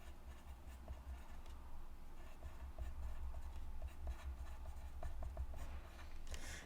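Close, soft scratching and rubbing of a pencil writing a label on a card tag, with light irregular ticks and strokes, alone and steady throughout.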